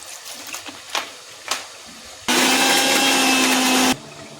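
Kitchen blender grinding green chilies and cashews with a little water for a white chicken gravy: a few light knocks, then one loud, steady whirring burst of about one and a half seconds that stops abruptly.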